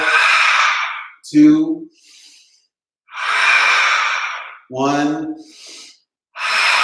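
Deep breaths drawn in and pushed out during a yoga flow class, loud and close, as a series of strong breathy bursts separated by short pauses, with a voice briefly counting between them.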